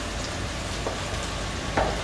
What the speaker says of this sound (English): Look at that, that sizzle though.